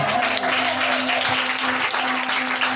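A church congregation applauds during a sermon, a steady dense wash of clapping that holds at even loudness throughout, with a low electrical hum beneath it.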